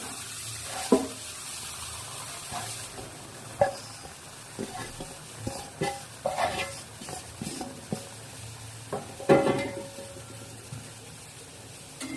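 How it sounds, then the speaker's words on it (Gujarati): Flour being roasted and stirred in hot ghee for adadiya pak: a soft sizzle with intermittent scraping and clinking of a spoon against the pan, irregular stirring strokes close by and fairly quiet. "હવે આપણું ઘી ગરમ થઈ ગયું છે. હવે આપણે લોટ શેકવાનો છે, માટે લોટ બધો નાખી દઈએ."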